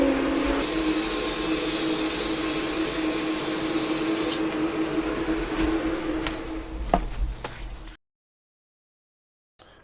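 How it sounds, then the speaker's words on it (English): Aerosol spray paint can hissing steadily and loudly up close for several seconds while coating the interior of an ambulance converted into an RV, then stopping, followed by a few small clicks and handling knocks before silence. "we've got another full can of paint. I need to get one really good wet coat on there."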